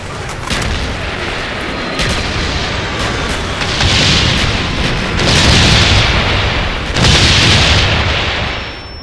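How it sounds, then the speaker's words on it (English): B-52 bombing run in Call of Duty Black Ops online play: loud, sustained rumbling explosions roll in several heavy waves with bright bursts, dense and close, with no talk over them. "B-52 coming in."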